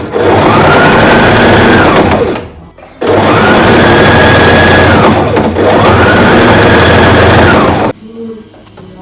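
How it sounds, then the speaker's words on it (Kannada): A sewing machine zigzag stitching a border onto a princess-cut blouse, three loud sustained runs of rapid whirring stitching separated by short pauses, close and dominant. "ಈ ಥರ ಅಲೈನ್ ಮಾಡಿಕೊಂಡು ಜಿಗ್ಜಾಗ್ ಮೆಥಡಲ್ಲಿ ಸ್ಟಿಚ್ ಮಾಡಬೇಕು."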